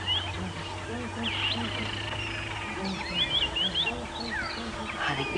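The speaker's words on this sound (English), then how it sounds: "It is in fact a ground hornbill" A southern ground hornbill calls at sunrise on a safari drive, its low booming calls coming from the distance, with chirping birds around it and people talking over the top.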